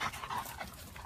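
A dog pants and snuffles close by outdoors, quick rhythmic breaths with faint whimpering, short and moderately loud.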